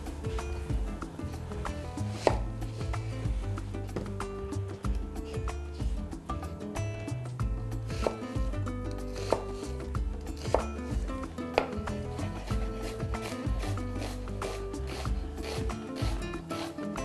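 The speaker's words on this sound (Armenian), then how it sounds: "Կվերցնեմ 1 գլուխ սոխ, կկտրատեմ այն մանր։" A knife chops an onion finely on a board for a chicken and bulgur pilaf, rapid steady strikes and rubbing scrapes repeating close by, with a dense low clatter throughout.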